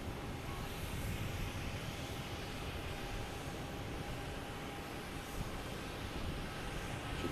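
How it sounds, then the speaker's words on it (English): A Delta Embraer E175 jet arriving at Boston Logan Airport produces a steady broadband engine roar, moderately distant and fairly faint, holding constant throughout the short clip. "Delta coming in from LaGuardia, an E175, flight 5739 is next to arrive."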